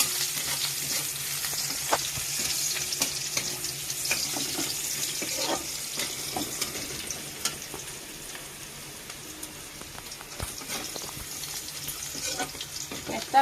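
Chopped onion frying in a pan for a Bengali brinjal curry, a steady close sizzle with occasional stirring clinks and scrapes throughout.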